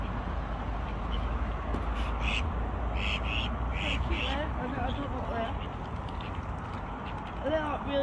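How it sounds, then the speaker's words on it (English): Ducks quack in short bursts while people talk nearby against a steady outdoor background at Rhuddlan Nature Reserve in winter. "All the ducks."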